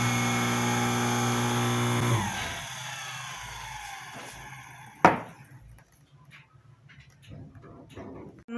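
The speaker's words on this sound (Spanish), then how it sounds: "La voy a probar antes de terminarla de armar, para que escuchen cómo se oye ya recién embobinada" A burned-out electric water pump motor, freshly rewound and partly reassembled, runs with a loud, steady harmonic hum, then spins down. A sharp knock follows, then quieter handling noises near the bench.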